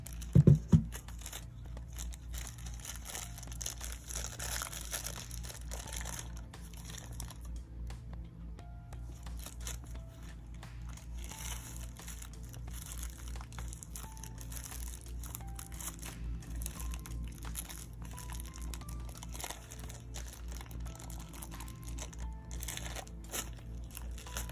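Plastic packaging of a Mummy wireless tattoo machine is carefully opened, with faint, close crinkling and rustling that runs throughout after a brief louder handling noise at the start, and no voices.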